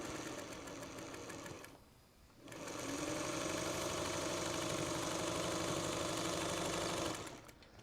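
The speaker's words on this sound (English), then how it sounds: "I'm going to sew at least the first round" A sewing machine stitches a quilt's log cabin block in long continuous runs, briefly stopping around the two-second mark before resuming at steady speed, close and loud with no talk.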